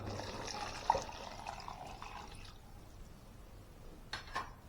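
Water is poured into soaking rice for veg biryani, a soft trickling splash that runs for about two and a half seconds, then quiet with a couple of faint drips or clinks near the end.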